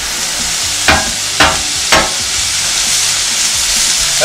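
Thin-sliced steak for a Philly cheesesteak sizzles loudly and steadily in a hot pan, with three distinct stirring scrapes near the start and no talking.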